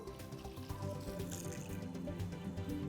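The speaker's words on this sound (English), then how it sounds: "now that the water is coming out clear, we can move to the next stage of the backwash" Water runs steadily from a whole-house water filter during its backwash cycle, a continuous, fairly faint rushing flow with no voices.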